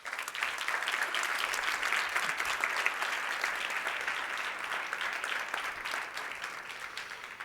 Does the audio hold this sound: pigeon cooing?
no